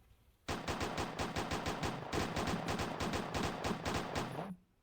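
Rapid automatic gunfire from the video game Uni Craft Your World, a dense burst of evenly spaced shots lasting about four seconds, loud and close with no voices.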